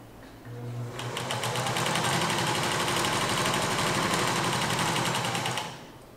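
A sewing machine stitches steadily along a drawn pen line with the presser foot lowered, a close, loud, continuous whirring run of about five seconds that starts and stops abruptly.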